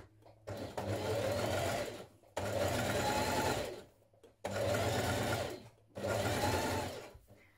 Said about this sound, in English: stitch a few millimetres away from the edge of this seam here